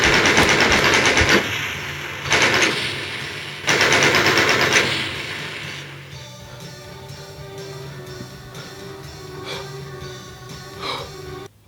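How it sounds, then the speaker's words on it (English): Rapid bursts of machine gun fire from the Doom 3 BFG Edition video game, loud and dense for several seconds in separate volleys, then fading into quieter game sounds with a few faint later shots. "Oh, wow, they're shooting!"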